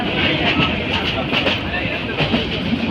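A passenger train running steadily, with a continuous broadband rumble and faint rhythmic clatter throughout, close and fairly loud, with no voices.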